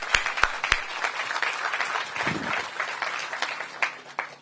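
Audience applause at the ribbon cutting for the Ward 8 Entertainment & Sports Arena, a steady wash of many hands clapping for several seconds with a few sharper nearby claps standing out.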